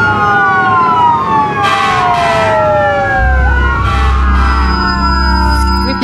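A loud fire engine siren wails nearby, its pitch sweeping up and down repeatedly over a rumbling vehicle engine.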